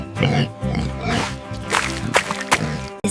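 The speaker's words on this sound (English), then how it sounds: "Oink, oink, hear it?" A pig grunts and oinks in a dense, rough burst that runs continuously for about three seconds, close and loud.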